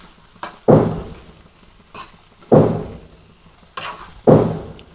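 Ground spice powder being stirred into frying kasarayakaya in a pan: sizzling under repeated scraping strokes, with loud scrapes coming in spaced bursts about every second or two, up close.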